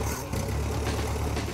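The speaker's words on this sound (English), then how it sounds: "with a turn of the key, the little Ford V4 engine roared to life" A little Ford V4 engine in an International cabover tow truck runs close by, a rough, steady rumble with a throbbing low-end pulse.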